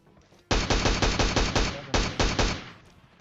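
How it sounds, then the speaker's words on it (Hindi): An SLR rifle fires in the PUBG video game, a rapid burst of about ten loud, close shots with short gaps between them. A faint tail of echo follows the burst. "इस गन से मैं एक और बंदे को नॉक कर देता हूं"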